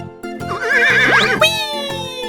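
A horse in a 3D animal slide game lets out a loud whinny that wavers in pitch and ends in a rising squeal, over a steady, rhythmic game backing.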